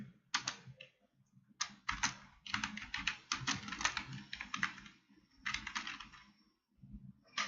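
Rapid bursts of keystrokes on a computer keyboard as a heading is typed, clicking in uneven clusters with short pauses between words, close and fairly quiet.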